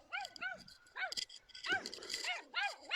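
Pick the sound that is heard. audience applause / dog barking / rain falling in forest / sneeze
dog barking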